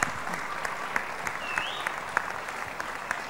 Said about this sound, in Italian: Io li vorrei accogliere con un applauso anche loro